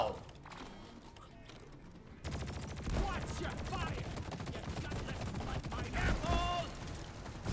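Gunfire in the video game Deep Rock Galactic opens up after a quieter start, rapid dense volleys of shots rattling continuously and close, with occasional brighter tones mixed into the barrage.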